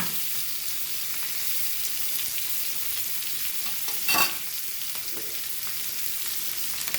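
Hilsa (pedve) fish fries Goan style in a pan, giving an even, steady sizzle throughout, broken once by a brief louder scrape or clatter, with no one talking.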